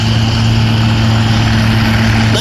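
A 1962 Cockshutt 570 vintage tractor drones steadily at a tractor pull, its engine loud and close with a constant low hum and no breaks.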